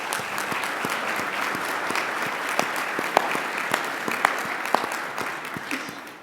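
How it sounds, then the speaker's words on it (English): Conference audience in a large hall giving itself a round of applause, moderately loud steady clapping with a few sharp individual claps standing out, tapering off at the end. "with a round of applause for yourselves"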